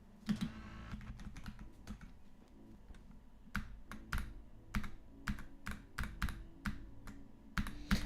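Rapid keyboard typing and clicking on a dedicated keyboard during Geometry Dash play, with irregular bursts of sharp, close keystrokes and clicks, some louder clustered taps, and no talking.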